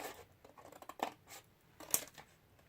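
Scissors snip through a piece of card in a quiet setting, a couple of brief crisp cuts about a second apart among soft paper handling rustles.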